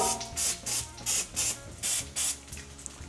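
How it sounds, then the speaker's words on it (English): Short hissing spray bursts from an oil mister onto lentil patties in an air fryer basket, about six quick puffs in a steady rhythm, close and fairly loud with no talking. "give it a really quick, very light spray of oil on one side"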